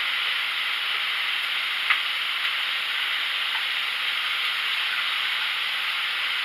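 Crawfish and shrimp sauté in oil in a pan, giving a steady, even sizzle and hiss close by, with a faint pop or two and no talking.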